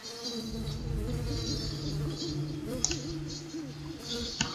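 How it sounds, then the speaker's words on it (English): Bees in a spooky woodland Roblox camping game buzz steadily at mid volume, with scattered clicks and a couple of sharp taps over the drone. "Oh, bees."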